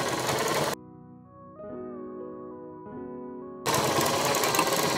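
A sewing machine stitches a half collar choli blouse, a loud, close mechanical whirr at the start and again at the end, with a stretch of tonal music filling the gap between.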